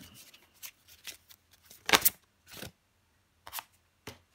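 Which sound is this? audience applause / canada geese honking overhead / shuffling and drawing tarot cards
shuffling and drawing tarot cards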